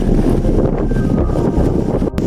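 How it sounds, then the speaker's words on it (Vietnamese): Strong wind from Typhoon Kalmaegi roaring and buffeting hard against the microphone, a loud continuous rumble with gusty surges and a brief dip near the end. "The wind is super strong."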